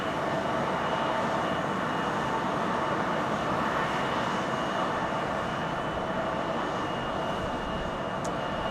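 Envoy regional jet arriving at Phoenix Sky Harbor airport, a continuous broad engine roar that stays even and fairly distant for the whole stretch, without talk.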